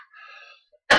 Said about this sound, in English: Excuse me, I'm coughing for some reason.